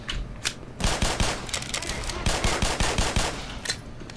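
Rapid automatic gunfire from a weapon in Black Mesa, a loud chattering string of close shots in quick bursts with brief pauses between volleys.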